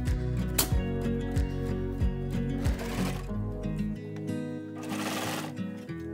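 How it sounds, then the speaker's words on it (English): A sewing machine stitches a sock cuff to the sock body opening through three layers of fabric, a steady close mechanical whir with a rhythmic low thump under a continuous hum. "Now sew the sock cuff to the sock body opening."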